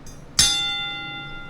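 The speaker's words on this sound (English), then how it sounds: "the bell stuttered" Wrestling ring bell struck once with a sharp metallic clang, its bright ringing tone sustaining and slowly fading, heard alone.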